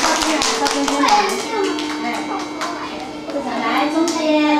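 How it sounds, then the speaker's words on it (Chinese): Children and guests clapping in welcome at a child's birthday celebration in a kindergarten, a dense patter of hand claps running steadily throughout, with children's voices chattering underneath. "掌声鼓励，欢迎你们！"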